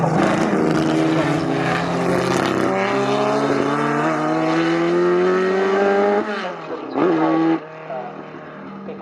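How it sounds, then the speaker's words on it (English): A 1953 Cooper Bristol T25 vintage race car roars past at Snetterton, its loud engine note climbing steadily, then dropping away with brief gear-change dips as it recedes. "Malcolm Harrison in the Cooper Bristol T25, which raced in period 1953"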